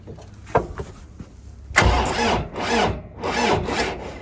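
A Kentavr 504FC mini tractor engine cranks in frost on a weak battery without catching: three loud, labored starter bursts follow a few quieter clicks and knocks, each burst grinding for about half a second before dropping away.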